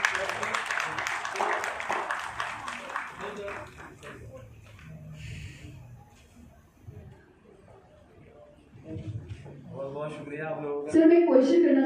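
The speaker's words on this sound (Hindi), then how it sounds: "फादर के लिए तो जोरदार तालियां हो जाए" An audience at a national achiever awards ceremony claps for an awardee's father, the applause loud at first and then fading into murmuring chatter before a voice speaks up close.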